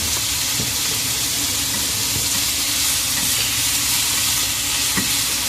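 Chicken sautéing with onion and ginger in a pan for sweet corn soup, giving a loud continuous sizzle with occasional stirring scrapes and clicks, close up, no talking.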